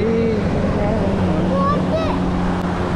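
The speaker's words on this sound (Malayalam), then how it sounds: "ബോട്ട് അതാ പോന്ന് ഗായ്സ്" A boat passing on water gives a continuous loud rush of engine and water noise, with voices talking over it throughout.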